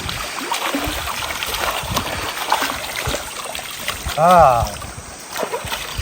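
Rushing, splashing water of a cold hill stream as someone bathes in it, a steady broadband wash up close, with a brief rising and falling vocal sound near the end.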